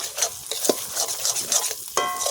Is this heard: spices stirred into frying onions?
yes